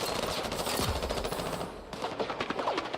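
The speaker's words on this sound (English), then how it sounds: "This SMG is not the best." Rapid SMG fire in the video game Battlefield 6 rattles in quick bursts, dense and continuous with overlapping battle sounds, moderately loud throughout.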